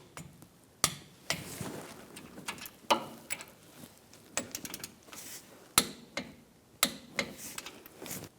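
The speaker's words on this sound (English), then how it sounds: "we'll torque these to 22 foot-pounds" A torque wrench tightens brake caliper bolts to 22 foot-pounds on a 2010-2014 Volkswagen GTI front brake job, with close, irregular ratcheting clicks and a few sharper metallic knocks, no voices.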